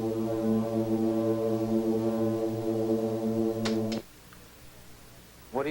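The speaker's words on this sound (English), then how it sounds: "Was it really just the love song of a lonely toadfish" A toadfish's steady low buzzing call, a drone with a mechanical, foghorn-like tone, hums for several seconds, then stops abruptly, leaving faint background noise.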